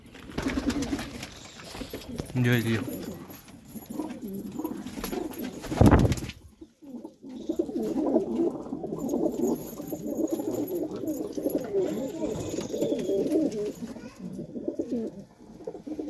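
Red Marwada highflyer pigeons coo in soft, rolling, repeated calls nearby, with wing flutters and other bird noise in the background; someone briefly speaks near the start.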